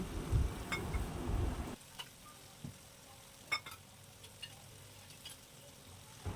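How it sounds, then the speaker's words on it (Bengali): Spice masala for chicken leg-piece curry being stir-fried in a pan, with a loud sizzle and stirring for the first couple of seconds, then quieter with occasional scrapes and soft ticks. "এবারে মশলাটাকে ভালোভাবে আর একটু কষিয়ে নিতে হবে।"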